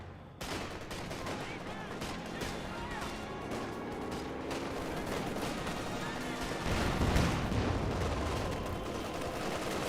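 Rattling bursts of MG34 machine-gun fire in Company of Heroes 2 mixed with other battlefield gunfire, continuous and moderately loud throughout, growing heavier toward the end, with a caster talking over the combat.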